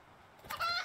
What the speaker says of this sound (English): chicken.